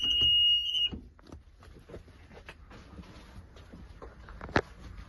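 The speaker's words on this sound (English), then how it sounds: "test the rear door, make sure it operates correctly, and that the alarm sounds" A school bus rear door alarm buzzes shrilly and loudly for about a second, then cuts off, leaving faint clattering and knocking sounds nearby.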